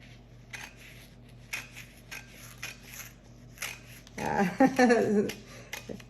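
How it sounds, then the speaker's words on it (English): Scissors snipping through a printed paper napkin image during a Mod Podge image-transfer craft, a series of small soft crisp cuts and rustles, close but faint, with a short stretch of talking near the end. "what we'll do is just use scissors here to cut this part off"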